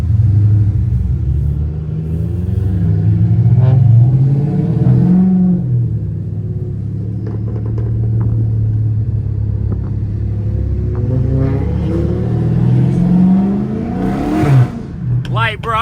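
A 500HP Dodge Scat Pack's engine rumbles loudly while driving, rising and falling through revs and downshifts with deep exhaust growl, someone talking over it at times.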